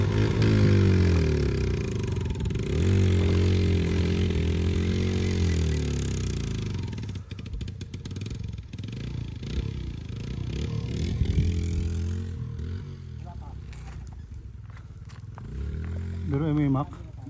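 A motorcycle engine labours uphill with a loud, strained drone whose pitch wavers as it struggles. Later the engine noise thins out, leaving rattling clatter and wind.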